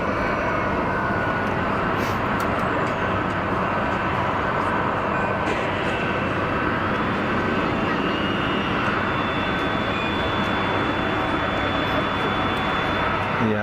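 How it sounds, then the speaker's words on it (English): A Bombardier airliner lands at Geneva Airport, a loud, continuous broadband roar of engines and reverse thrust that holds steady throughout, with a faint whine rising above it. "Bombardier that did the cool landing."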